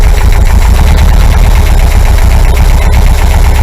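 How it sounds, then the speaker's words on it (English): A loud air-cooled 2-litre VW engine idles right up close at about 850 rpm, a steady, rough, throbbing rumble with constant mechanical vibration and no talking. "We can raise or lower the engine speed."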